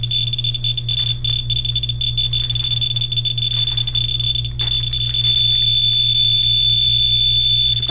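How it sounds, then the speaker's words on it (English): A shrill, piercing smoke alarm tone sounds continuously at close range, steady and loud over a low electrical hum. "This one actually fits right into my smoke alarm and it still works perfectly fine."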